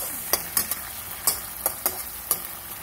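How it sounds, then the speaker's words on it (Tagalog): Garlic, tomato and canned sardines sauté in a hot pan: a constant close sizzle broken by repeated sharp scrapes of a utensil stirring every half second or so. "Gisahin po natin ang bawang at saka kamatis."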